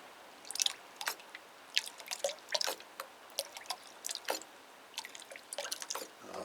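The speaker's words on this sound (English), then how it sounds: "And we'll put some bleach in." Bleach trickles into a container of tepid water, making faint, irregular drips and small splashes close by in an otherwise quiet setting.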